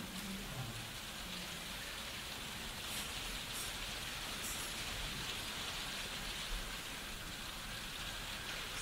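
Steady rain falls during a Sunday service, a dense, even hiss of drops on a surface that holds constant throughout with no voices over it.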